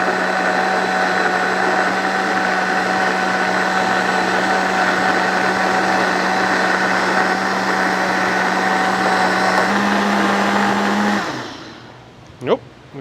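A blender runs steady and loud, pureeing charred salsa verde, with a constant whirring drone for about eleven seconds before it cuts off, followed by a few faint clicks.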